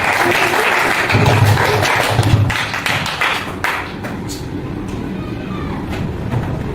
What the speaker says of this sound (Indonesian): tepuk tangan untuk